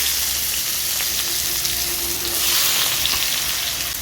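Chopped onion frying in hot oil for an egg masala curry, making a loud, dense, steady hiss and sizzle close up that swells slightly midway, alone without speech.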